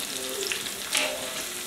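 Tempering for South Indian curd rice sizzling in a pan as green chillies, ginger and curry leaves hit the hot oil, a steady close frying hiss with a brief louder burst near the middle.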